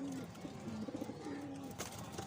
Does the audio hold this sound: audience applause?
no